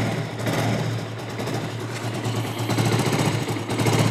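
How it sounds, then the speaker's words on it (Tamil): A Bajaj Avenger 220 Cruise motorcycle engine idles steadily up close, a low rumbling hum with a faint ticking pulse and no talking. "உங்களுக்கு நான் இன்ஜின் சவுண்டும் சைலன்சர் சவுண்டும் எப்படி இருக்குன்னு காட்டுறேன்"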